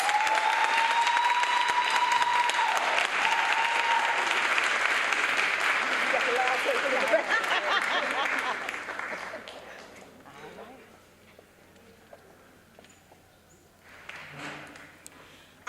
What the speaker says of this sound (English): Let's give a great round of applause for Mrs. Juan B. Teague of Juan and One Events.